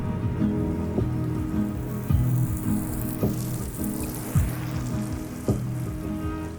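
Light drizzle patters steadily on surfaces along a forest logging road in New Brunswick, with a dense crackling hiss and occasional heavier drops, close and continuous.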